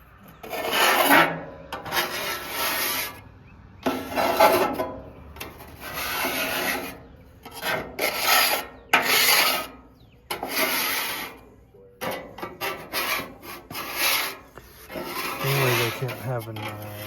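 A small handheld scraper rasps repeatedly across a surface being cleaned, loud close strokes in an irregular rhythm with short pauses between them.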